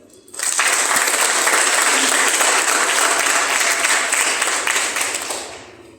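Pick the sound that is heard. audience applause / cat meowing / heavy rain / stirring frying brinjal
audience applause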